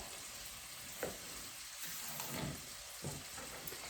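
Onion frying in a pan, a steady sizzle with a few soft clicks and stirring bumps, moderately quiet and continuous with no voices over it.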